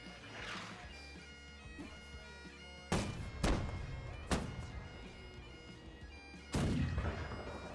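Four heavy booming naval gunshots in a video game ring out at uneven intervals, each a sharp loud blast with a rumbling tail, over quiet background noise.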